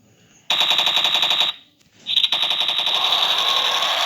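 Chicago Typewriter machine gun firing in a video game: a loud, rapid burst of automatic gunfire, a short pause, then a second sustained burst of fire, with no talking.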